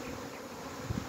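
Swarming honey bees buzz in a dense, steady hum, the drone of many insects blending together at a moderate distance.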